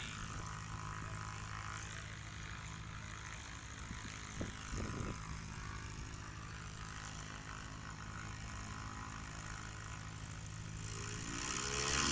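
A Titan 180-horsepower STOL airplane makes a short takeoff at STOL competition practice. Its propeller engine holds a steady, close drone that swells louder toward the end, with no talk.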